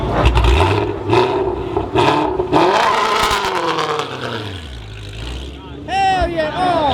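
Engine revving hard at a pop-up car meet in Atlanta, a loud roaring rise and fall close by, with crowd voices and shouting over it and a squealing, whistling tone near the end.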